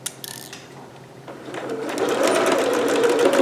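A sewing machine stitches a shoulder seam on a green performance gown, right sides together at a 5/8 seam; a few sharp clicks give way to a steadily building, continuous mechanical whir, close and loud.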